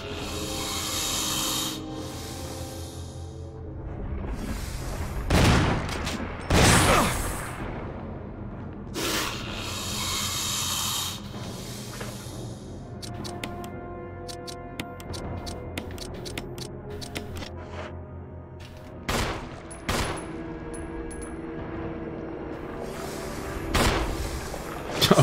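Gunfire in the Resident Evil remake video game, played as Chris: a string of sharp, loud shots with booming impacts scattered over a dense, continuous game soundtrack, with no talking.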